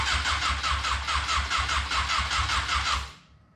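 A car engine cranks close by in a fast, even pulsing rhythm for about three seconds and then goes quiet, with no talking.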